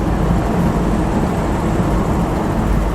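A 1959 Pontiac Bonneville Tri-Power convertible cruises along a country road, giving a steady, loud rush of engine, tire and wind noise that holds constant throughout with no voices.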